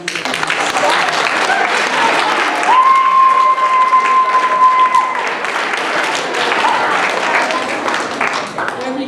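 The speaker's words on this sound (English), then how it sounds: "So students, please give your parents a huge round of applause." Students and guests at a school debate exhibition give parents a long round of applause, loud and sustained clapping from a full room with a steady tone sounding partway through.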